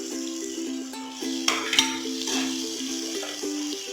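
Biryani masala and Kashmiri chili powder are fried in a pan for mutton biryani, producing a gentle sizzle with a few sharp stirring scrapes near the middle and a steady tonal hum beneath.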